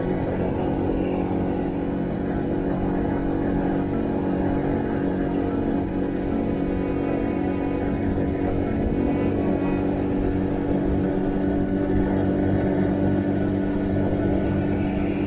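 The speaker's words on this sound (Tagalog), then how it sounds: "Parang sasabog na yung makina ko eh." A TVS XL 100 moped with a 100cc engine labouring up a steep zigzag climb, its engine droning continuously and loudly with a steady low buzz and strained hum throughout, close up and without talk.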